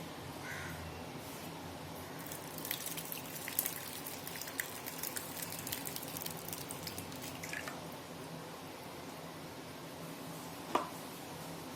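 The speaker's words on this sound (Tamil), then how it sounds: "இதை வந்து ஒரு துணியில் வச்சு இந்த மில்கை வந்து நம்ம ஃபில்ட்ரு பண்ணிக்கலாம்" Hot curdled milk strained through a cloth while making rasgulla, giving a steady trickle with scattered soft drips and splashes that build midway, followed by one sharper drop near the end.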